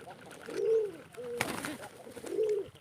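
Domestic pigeons cooing at a local pigeon farm, two clear low rolling coos close by with a brief clatter between them.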